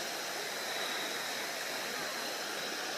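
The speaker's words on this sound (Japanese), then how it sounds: "浅そうな川が 流れてます。" Shallow river flowing past a campsite with a washing area, cooking counter and stone stove at a nature-park campground in Toyama, Japan; a steady, broad rushing of water fills the scene evenly and continuously without pauses.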